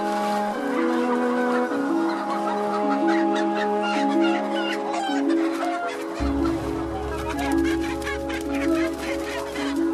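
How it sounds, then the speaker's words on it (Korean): Chickens in a poultry farm cluck and squawk continuously, a dense flock chorus close and loud throughout, with a low hum rising underneath partway through. "살처분 요원들이 들이닥친 양계장. 닭들은 영문도 모른 채 마지막까지 먹이 활동을 합니다."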